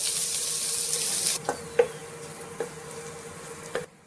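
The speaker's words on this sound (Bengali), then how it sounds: "এবারে দিয়ে দেবো একটা মিডিয়াম সাইজের পেঁয়াজ কুচি করে রেখেছি।" Chopped onion fries in oil with dried red chilies: a bright hiss at first, then a quieter sizzle with a few sharp ticks and spatters.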